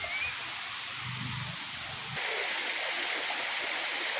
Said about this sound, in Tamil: அந்த ரொம்போடா வாட்டர் ஃபால்ஸ் நடந்து போகிறோம்.